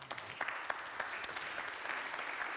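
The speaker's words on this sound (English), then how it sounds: "give them a round of applause, please" Audience applause at a healthcare panel event as three panelists come onto the stage; a steady wash of clapping at moderate level with a few sharper individual claps, no talk over it.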